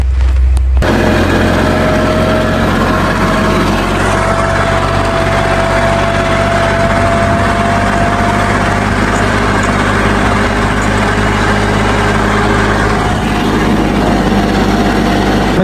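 A tractor engine runs steadily while harrowing a weedy pigeon pea field, a loud, close, continuous low drone with a faint mechanical whine above it and no talking.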